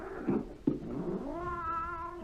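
Several cats meowing and caterwauling in a pet shop, a comic radio sound effect: two short yowls, then a long, rising, drawn-out meow, close and clear with no talk.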